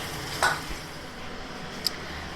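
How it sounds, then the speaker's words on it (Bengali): Vegetables for dal frying in a wok, giving a soft steady sizzle broken by a couple of brief stirring scrapes and clinks, with no talking. "ডালের জন্য যে সবজিগুলো আছে ওগুলো ভেজে নেব"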